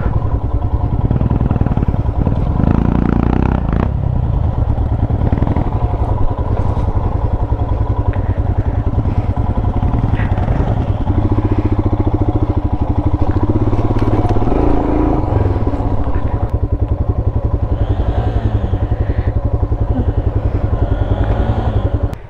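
Motorcycle on a forest trail near Bangalore, its engine loud and close, revving and straining in low gear with a rough clattering drone throughout, while people talk over it.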